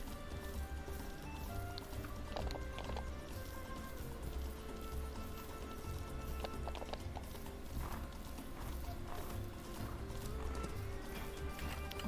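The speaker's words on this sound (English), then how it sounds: "the wild horses are over here, close to where the flexibility arena will be" Wild horses in the video game Ranch of Rivershine, with steady clip-clopping hooves over a constant ambient bed and faint rain-like patter, a few occasional whinny-like tones.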